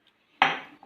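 A single metallic clink of a utensil against a bowl or pot, struck sharply and ringing out briefly while a salted mixture is stirred and water is added, followed by a faint tap.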